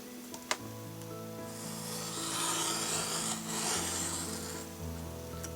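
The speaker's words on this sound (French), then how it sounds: "J'utilise alors mon cutter couteau." A utility knife slices a paper strip along a ruler in a steady, close rasping cut lasting several seconds, preceded by a brief click.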